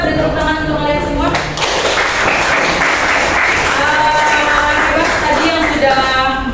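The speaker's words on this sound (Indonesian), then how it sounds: "kita beri tepuk tangan untuk kalian semua" A class of students clapping together in a school classroom, a short burst of hand claps mixed with chatter and a teacher's voice, loud and close, with talking continuing over and after the applause.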